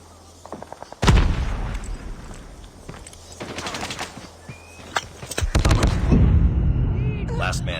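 Shotgun blasts in a Call of Duty Mobile search and destroy match, with several loud, sharp booming shots that come in bursts among other gunfire and game effects, and a voice speaking briefly over the action.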